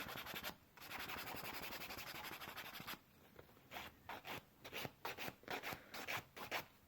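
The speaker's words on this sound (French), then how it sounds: "Je lime vraiment comme ça." Gel nails being filed with a nail file: steady continuous rasping strokes close up, then shorter separate scrapes in a quicker rhythm, with no voices.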